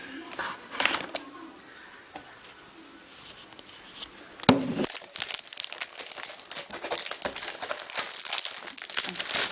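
Crinkly packaging being torn and unwrapped from a perfume gift holding two bottles, with close, busy crackling and rustling bursts throughout, louder and denser in the second half, alongside someone speaking.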